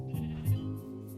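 A sheep in the Minecraft video game gives one short, nasal bleat at close range, with faint game clicks in the background.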